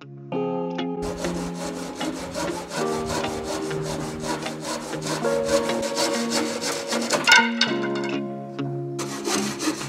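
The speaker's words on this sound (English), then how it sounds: "Make sure you cut all your wood nice and square" Wooden boards for an aquarium lighting bracket being hand-sawn with a steady back-and-forth rasping rhythm, close and fairly loud, with a short pause near the end before sawing resumes.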